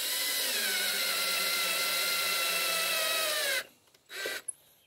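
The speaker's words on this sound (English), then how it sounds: "So run your screw in there." A power drill drives a self-tapping screw into a wooden board, a steady loud whir with rising pitch for several seconds that stops abruptly, followed by a couple of short bursts as the screw bottoms out.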